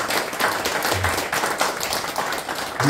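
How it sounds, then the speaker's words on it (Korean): Applause from a seated audience greeting three local teachers at a university opening worship service, dense and steady throughout with no voices over it. "잠깐만 한번 일어나서 박수 한번 해주세요"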